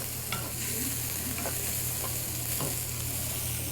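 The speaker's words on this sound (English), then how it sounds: "Get the mushrooms cooking." Mushrooms cooking in olive oil give a steady, moderate sizzle, broken by a few quick scrapes and stirring taps. There is no talking.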